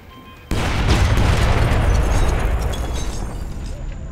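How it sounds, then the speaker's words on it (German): A loud explosion in the stealth action video game Splinter Cell Blacklist bursts in abruptly and then rolls on as a dense, sustained roar of rumbling debris and fire for several seconds. "lass das ruhig da alles explodieren, das ist mir ja egal"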